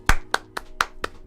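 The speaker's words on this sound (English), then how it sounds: "Can we give a round of applause?" A few hands clapping in a small room, six distinct sharp claps spaced evenly and close, with no crowd or talk around them.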